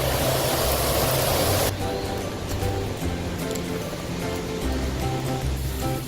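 A waterfall in White Oak Canyon, Shenandoah National Park, pours with a steady broadband rush; the hiss is loud at first, then drops to a softer, more distant flow.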